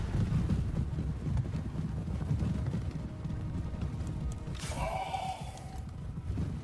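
Cavalry horses in the Total War: Warhammer game, Vampire Counts faction: a steady low rumble of many hooves and movement fills the whole stretch, with one clear whinny rising near the end.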